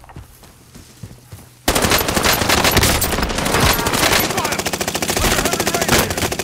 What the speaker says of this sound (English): I'm gonna shoot him from behind.